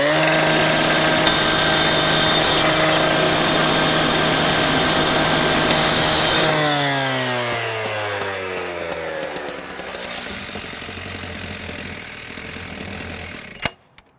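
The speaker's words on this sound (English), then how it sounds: "as soon as I address the deadbolt, you'll just see the saw drop right onto the latch." A gas-powered cutting saw screams steadily through a door deadbolt and latch, loud and close, then winds down with falling pitch as the blade spins to a stop, followed by a brief clack.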